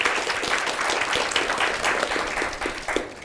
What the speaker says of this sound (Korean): 심찬 박수를 그 수험생들, 합격생들을 위해서 박수 칩시다